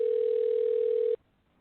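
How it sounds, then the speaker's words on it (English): A telephone line gives a single steady electronic tone, loud and continuous for just over a second, then cuts off abruptly into near silence. "Right, I hear it ringing."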